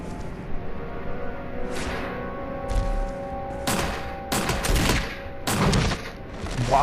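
Bursts of gunfire ring out during a Resident Evil cutscene, several sharp volleys clustered in the last few seconds, loud and close, over a sustained tonal music bed.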